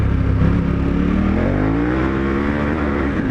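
A dual sport motorcycle on Mitas E-10 Dakar tires accelerating hard, its engine note rising steadily, loud and close, with no talk.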